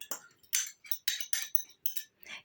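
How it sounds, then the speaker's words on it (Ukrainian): Eggs being mixed in a plate for sugar-free, flour-free diet cookies, giving a rapid series of about ten sharp utensil clinks and scrapes against the dish, close and fairly loud, with no talk. "В другій тарілці я перемішую яйця."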